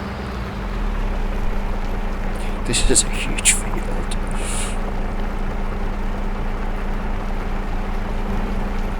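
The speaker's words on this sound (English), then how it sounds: "like watching the tractor go crazy doing the ploughing" Steady low engine drone of a tractor pulling a 9-metre plough across a large field in Farming Simulator 22, constant and even throughout, with a person talking over it.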